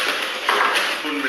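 A whisk beats batter for carrot cake in a bowl, a close brisk rattling and scraping of metal against the bowl in a short continuous burst.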